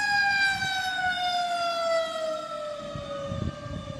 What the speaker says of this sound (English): Now here's an ambulance to ruin my fucking day.